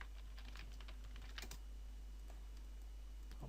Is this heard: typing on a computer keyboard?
yes